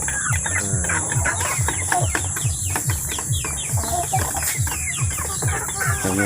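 Chickens cluck steadily at close range on a poultry farm where eggs are kept, their repeated rhythmic calls overlapping with brief chirps from other birds throughout.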